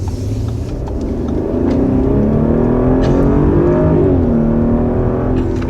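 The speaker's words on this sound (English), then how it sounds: "some backfires and some kind of pops and cracks when you get it in the sport mode with this exhaust" A luxury sport crossover in sport mode accelerates hard, its engine note climbing loudly and close through the gears, with an occasional faint crackle from the exhaust.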